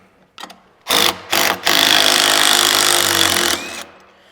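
Power tools fitting a deck plate onto a stripped-down Peterbilt truck frame: a couple of short loud whirring bursts, then a sustained harsh, buzzing run of about two seconds, close and loud, with no talk.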